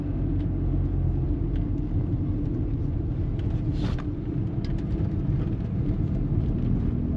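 A lorry ahead on a road rumbles steadily while labouring up through a bend, a constant low drone heard from a following car, moderately quiet and unbroken, with no talk.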